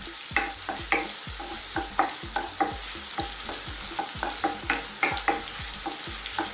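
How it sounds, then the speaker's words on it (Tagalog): Garlic and ginger sauté in a hot pan, a constant sizzle broken by rhythmic scraping and stirring strokes from a utensil, close and with no one talking. "Sunod na rin po natin yung ating luya. So magigisa lang po tayo."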